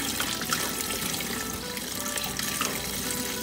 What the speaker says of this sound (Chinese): 洗草莓最好要在流动的水